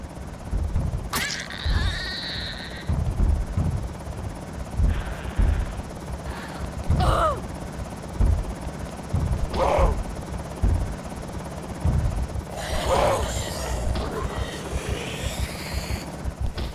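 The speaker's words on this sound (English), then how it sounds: "You goddamn chopper." Helicopter flying overhead in Project Zomboid, with a steady rhythmic rotor thumping throughout and occasional other game noises and cries breaking over it.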